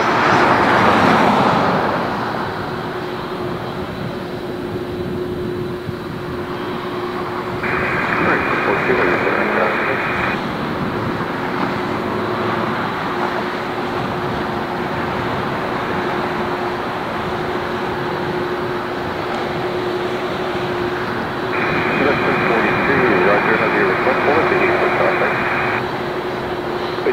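An airliner lands on runway 24 right at LAX, its broad engine roar rising and falling at a distance, interrupted twice by bursts of radio chatter from the tower.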